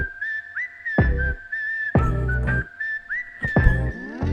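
Whistled melody carrying the tune of a Korean pop song, sustained clear tones with slides between notes, heard over the backing track's bursts of beat and instrumentation.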